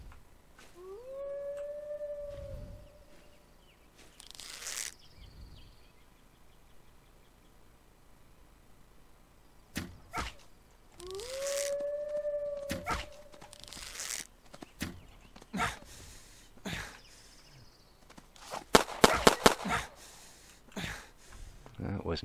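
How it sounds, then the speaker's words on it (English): A wolf in the survival video game Hold Your Own howls twice, each a rising then steady tonal wail, with other game effects and sharp hits around it and near the end. "there's the wolf."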